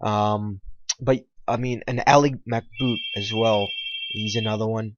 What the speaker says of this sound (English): Sorry, that's just the phone ringing.